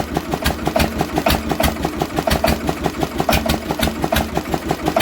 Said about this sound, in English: some of these I've listened to on the internet, they do have that distinct diesel noise